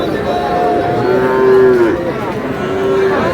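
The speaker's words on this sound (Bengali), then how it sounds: "শাহিওয়াল ষাঁড়।" A six-to-seven-month-old Sahiwal bull calf at a cattle market in Dinajpur gives a loud, drawn-out moo up close, followed by a second lowing call, over faint background bustle.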